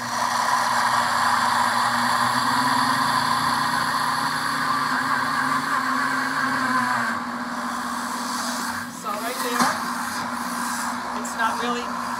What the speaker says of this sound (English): you push this little wheel here, and it's going to start going